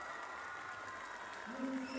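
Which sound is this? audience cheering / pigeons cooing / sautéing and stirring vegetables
audience cheering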